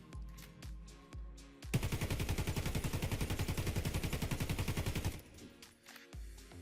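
Sustained automatic rifle fire in the video game Warface, a loud, rapid, evenly spaced burst of shots lasting several seconds, framed by a few single shots before and after.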